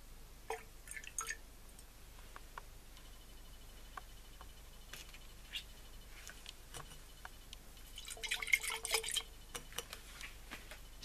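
Hydrochloric acid poured into a glass flask of cold solution while testing diode material for silver: faint, scattered drips and small liquid splashes, with a brief denser splashing burst near the end in an otherwise quiet room.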